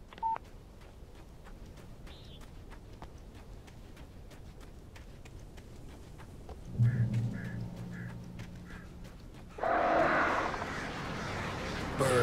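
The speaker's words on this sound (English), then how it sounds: "Birds." Bird calls in the Alan Wake video game: a few faint chirps early on, then louder bursts of calling midway and near the end over a quiet ambient background.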